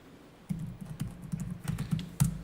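Rapid clicking of a computer keyboard while numbers are entered into Korean accounting software, a quick run of close, distinct keystrokes building in density toward a sharper final press.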